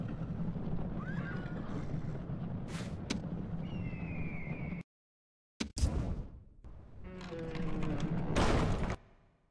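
Cavalry horses whinny and neigh in the Rome: Total War video game, several loud, close calls broken by a brief silence, with clattering hooves and battlefield noise around them.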